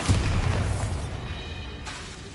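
A Bombarda blasting spell going off in Hogwarts Legacy, a single booming explosion right at the start that rumbles and fades over a couple of seconds, fairly loud with no voices over it.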